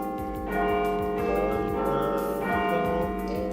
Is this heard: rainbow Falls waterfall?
no